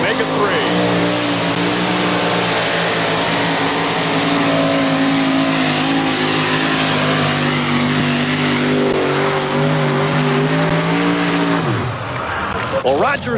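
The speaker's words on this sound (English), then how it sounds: "third, Roger Simon out of Dyersville, Iowa, 1992 Dodge. Keith Black power, 640 cubic inches of Hemi engine coming at you right now." A 1992 Dodge two-wheel-drive pulling truck with a Keith Black 640 cubic inch Hemi roars at full power in a sustained, loud, steady drone through a tractor pull run, cutting off near the end, with an announcer talking over it.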